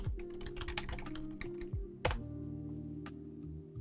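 Fingers type on a computer keyboard, producing a quick, irregular run of close key clicks with one heavier thunk midway, followed by sparser taps.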